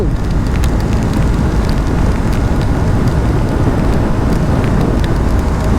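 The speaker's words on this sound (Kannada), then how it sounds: "ಐ ಹೋಪ್ ಈ ಮಳೆ ಜೋರಾಗಿ ಬರಲ್ಲ ಅಂತ ಅಂದ್ಕೊಂತೀನಿ ಆಲ್ರೆಡಿ ಬತ್ತೈತೆ ಜೋರಾಗೇನೆ" Steady, dense hiss of heavy rain pouring down without a break, loud and constant from start to finish, heard on a motorcycle road trip.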